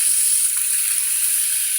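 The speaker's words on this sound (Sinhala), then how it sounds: "අපි දැන් මේ භාජනෙටම වතුර ටිකක් දාගමු ආයේ" Water splashed into a hot pan just used for frying chicken for devilled chicken, producing a loud, even, hissing sizzle that stays constant and close, with no talking.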